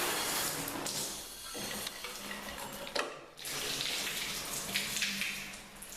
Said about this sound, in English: Shower does work.